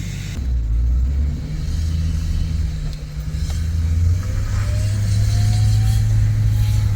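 A rebuilt, previously wrecked Chevrolet Silverado Duramax diesel truck engine runs with a steady, close, low rumble throughout, and a faint whine rises partway through.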